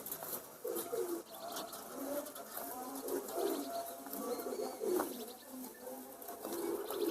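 Pigeons kept for sale, among them a 15-year-old bird, coo in soft, repeated rounds, a continuous low burbling with faint chirps mixed in.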